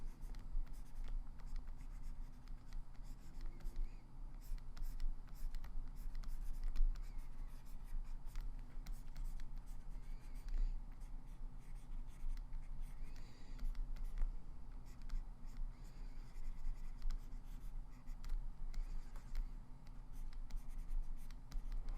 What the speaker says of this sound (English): Just drawing a quick example for you guys.